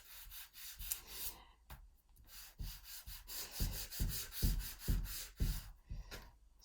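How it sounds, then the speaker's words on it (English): Charcoal on toned paper being rubbed with quick, repeated, close-up swishing strokes, each one a soft scratchy burst in an uneven rhythm, with short pauses between groups. "I'm going to try to rub off some of these sharp edges here."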